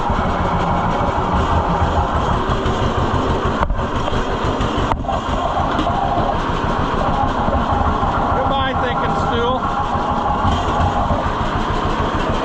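A 1948 John Deere B tractor engine runs steadily and loudly up close after a magneto repair, a continuous chugging drone with no audible miss throughout.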